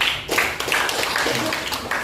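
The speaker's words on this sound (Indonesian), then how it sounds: "Tadi tepuk tangan dulu semua ya" Classroom audience clapping together during a teaching session, a dense patter of hand claps lasting about two seconds at steady moderate volume, with a voice faintly mixed in.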